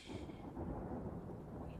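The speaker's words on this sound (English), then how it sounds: "Oh, I can hear some thunder as well." Thunder from a storm rumbles low and continuous, faint and distant, with a soft rain-like hiss over it.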